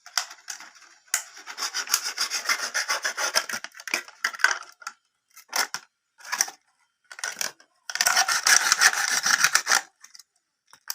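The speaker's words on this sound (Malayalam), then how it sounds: "ഈ ബോട്ടിലിൻ്റെ രണ്ട് വശവും കട്ട് ചെയ്തെടുക്കണം" A plastic bottle is cut at both ends, producing bursts of close, scratchy rasping strokes separated by short pauses, with a longer sustained cut near the end.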